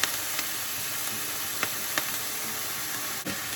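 Rice tossed into a hot pan for fried rice, giving a steady, close sizzle and hiss with a few light scrapes and clicks of stirring spread across the stretch, no voices.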